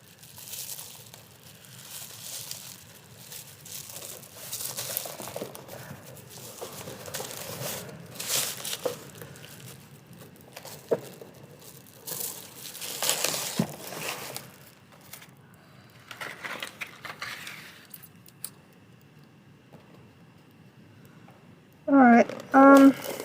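Tape is peeled, handled and pressed on while making a pet coffin, producing close crinkling, tearing and rustling in uneven bursts, with soft talking between them.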